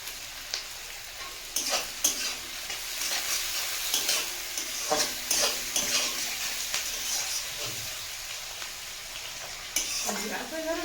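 Whole garlic cloves and onion frying in oil in a pan, a bright continuous sizzle with frequent spatula scrapes and taps against the metal as it is stirred, close and without talk.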